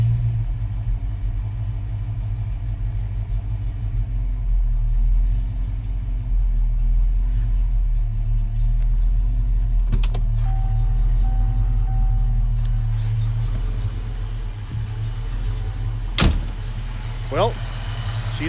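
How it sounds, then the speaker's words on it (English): A Foxbody Mustang engine idles after a Holley Terminator X fuel injection install, a loud, steady low rumble that holds throughout with slight fluctuations, a few sharp clicks near the end. "I think it'll have to settle in its idle a little bit."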